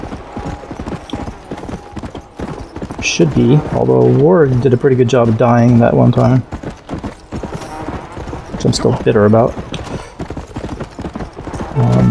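Horse hooves clip-clopping in steady rhythm during a ride through the Red Dead Redemption: Undead Nightmare game world, with a neigh rising partway through and someone talking over the hoofbeats.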